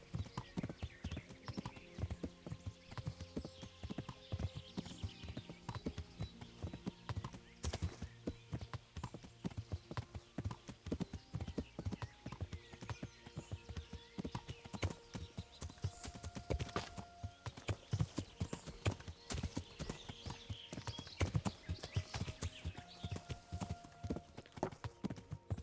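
A horse gallops in the medieval game Kingdom Come: Deliverance, its hooves beating a steady, fast clip-clop rhythm that runs the whole time at moderate loudness, with faint snorts and no talk over it.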